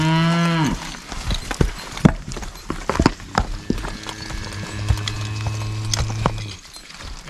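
Cattle low repeatedly amid clip-clopping hooves as draft horses herd them into a pen at a draft horse rodeo, the moos loud and drawn out over steady hoof steps.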